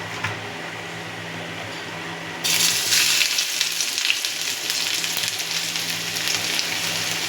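Grated ginger and garlic hitting hot oil in a wok, a sudden loud sizzle bursting in partway through over a low kitchen hum and continuing as a steady close-up crackle.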